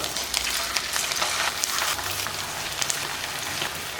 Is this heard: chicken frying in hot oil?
yes